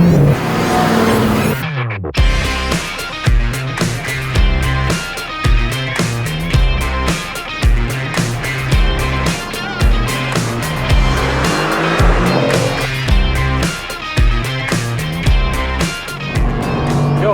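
A Mercedes-AMG GT R is driven hard on a race track, heard loud and close from onboard. The engine roars through revs and gear changes with brief lifts and tire squeal, continuously from start to finish.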